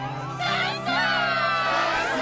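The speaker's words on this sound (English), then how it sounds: "Yes, the crowd is fired up" A crowd in the Kingdom Hearts II arena cheers and shouts, a dense, bright roar that swells partway through and holds loud and steady.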